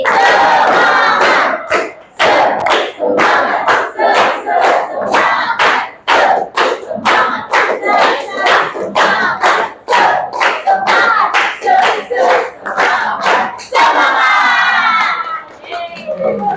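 A school class performs a rhythmic spirit clap chant, loud bursts of unison clapping and shouting in a repeating pattern, close and energetic, with a brief pause before the chant resumes.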